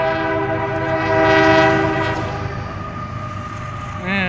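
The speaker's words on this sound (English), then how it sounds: "Yeah, it's a grain train going north." A northbound BNSF freight grain train passes close by with a loud, steady rumble of rolling cars, strong horn-like tones running throughout, and a brief rising whistle near the end.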